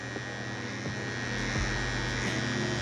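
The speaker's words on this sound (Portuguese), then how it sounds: "Passou a maquininha dessa forma, agora você vai virar ela de ponta cabeça" Electric hair clippers cutting a V-shaped fade haircut, a steady close motor buzz with a constant droning hum and slight shifts in tone as the blade moves through hair.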